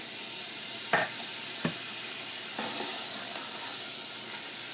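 Butter melting and sizzling over medium heat in a stock pot for Alfredo sauce, a soft continuous sizzle with a few sharp clinks and stirring taps near the start.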